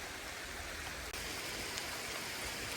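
Hard, cold rain falls over garden beds of onions, a steady close wash of drops with one brief dip in the middle and no talking.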